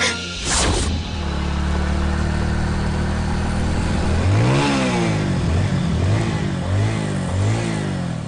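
A vehicle engine with an overly tight clutch cable revs up and down several times, loud and close, over a steady rumble with no talking.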